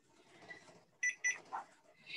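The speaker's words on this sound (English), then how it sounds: "it's going to beep when I hold it." A handheld paranormal ghost-hunting device gives three or four short, bright electronic beeps at close range, spaced irregularly over low background noise.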